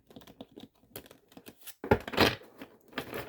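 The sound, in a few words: thick tarot cards being shuffled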